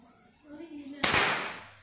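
Merauder Monolite air rifle firing a Hercules pellet at a 25-metre target: a single sharp, loud crack that decays quickly, after a moment of quiet speech-like murmuring.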